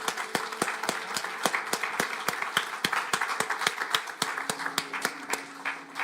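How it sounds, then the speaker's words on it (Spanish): Church congregation applauding during a Sunday service, a steady run of distinct hand claps at an even rhythm, moderately close, over a faint low hum, with no talking. "Un aplauso al Señor en esta mañana."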